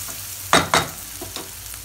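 Chopped garlic and green chilli sizzle in a pan as a spoon stirs them, two loud scraping strokes early on followed by fainter stirs over a low steady fry.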